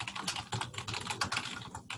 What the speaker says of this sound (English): I hear somebody typing like the wind.